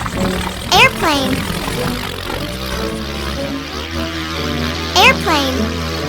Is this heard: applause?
no